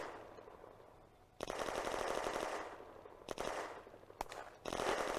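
Machine gun and 2 cm tank cannon fire from a German tank in the Firefight video game, Eastern Front, aimed at Soviet infantry: loud sustained rattling bursts with sharp cracks, several separate volleys close by.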